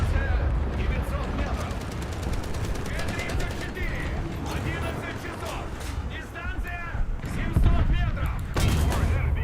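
Continuous War Thunder battle noise with booming cannon shots and rattling fire, dense and loud throughout, while someone talks over the action.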